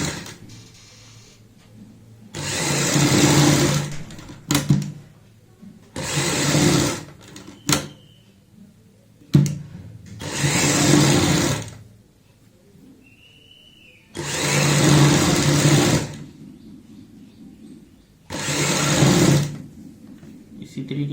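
An electric sewing machine stitches piping onto a kurti neckline in several bursts of rapid whirring, separated by pauses where someone talks quietly.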